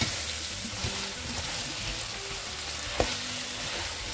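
Browned meat with onions and tomato sizzles and fries in a pot while being stirred, a close, continuous crackle broken by a brief clatter of the spoon against the pot.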